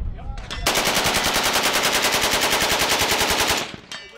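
An RPK light machine gun fires a sustained full-auto burst of about three seconds, the rapid shots loud, close and evenly spaced, with a few single shots before the burst and a short tail after it.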